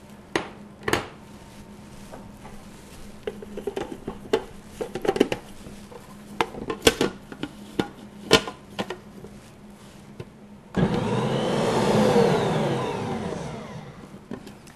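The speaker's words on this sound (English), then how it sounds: "you're going to put that into your mixer. And you want to cream your butter until it's nice and fluffy" Electric stand mixer creaming butter for gluten-free sugar cookies, starting after scattered kitchen clatters and knocks and running as a steady loud motor whir with beater churning through the last few seconds.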